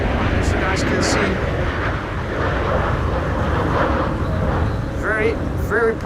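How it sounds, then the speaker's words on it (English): An Embraer 195 airliner comes in to land at Amsterdam Schiphol Airport in high storm winds, its engines giving a loud sustained roar mixed with wind buffeting, with someone speaking over it. "like the Embraer 195 is going to land first"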